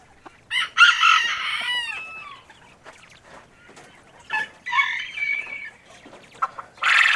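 A Wyandotte rooster crows in sharp, rising bursts near the coop among chicks, with further crowing and clucking calls trailing after short pauses.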